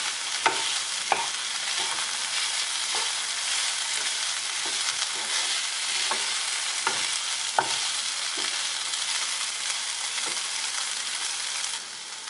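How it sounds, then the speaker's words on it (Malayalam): Broccoli stir-frying over a high flame for mezhukkupuratti, with pepper powder in the pan, a loud steady sizzle broken by repeated sharp stirring scrapes of a spoon against the pan. "നമുക്കിനി ഇത് ഹൈ ഫ്ലെയിമിൽ വെച്ച് നന്നായിട്ട് ഇളക്കിയെടുക്കാം."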